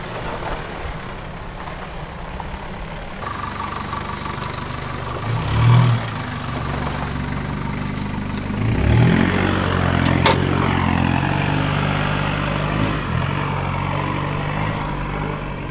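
A truck towing a budget army camp trailer climbs a steep bush track off the road, its engine a steady, close, low rumble that rises and strains midway, with rattles and clunks over the rough ground.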